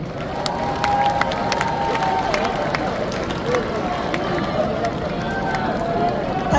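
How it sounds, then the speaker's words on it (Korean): Audience at a Democratic Party presidential primary candidate speech event in Korea applauds and cheers for the candidates, a dense, sustained wash of clapping and crowd noise at steady loudness throughout. "후보자님들께 격려의 박수 다시 한번 부탁드립니다."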